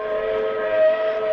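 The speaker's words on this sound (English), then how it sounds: "It sounded like a train whistle." A train whistle in a radio drama ghost story about a phantom locomotive blows one steady, sustained tone at moderate loudness, with no voices over it.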